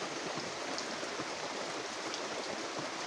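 Light rain falls in drops outdoors, making a soft, even hiss with faint patters throughout and no voices.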